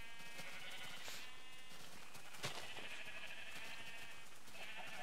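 Sheep in the Minecraft video game bleat in repeated drawn-out wavering calls over a steady low background hiss, with no talking.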